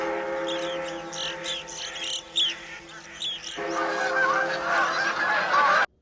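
Flock of geese honking loudly in a film scene from Dead Poets Society, with many overlapping honks close by, first in a cluster and then as a denser, louder chorus that cuts off abruptly.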